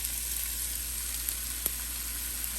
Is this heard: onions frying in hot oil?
yes